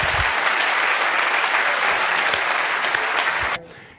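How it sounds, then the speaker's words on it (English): Dense, loud audience applause fills the room at a body language demonstration, sustained evenly before cutting off sharply near the end. "Give him a huge round of applause."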